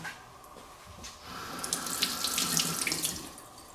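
Running tap water rinses the seeds out of a cored jalapeno in a kitchen sink, a steady, fairly quiet stream that swells slightly midway, with no voices.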